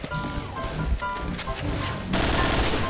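Rapid gunfire bursts from the online shooter game Point Blank, a dense crackling volley of shots that swells louder near the end, with a muffled voice faintly underneath.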